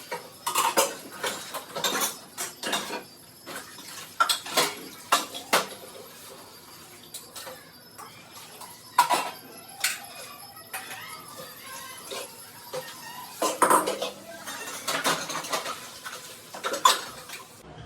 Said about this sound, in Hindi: सारे बर्तन मैं पहले साफ कर लूंगी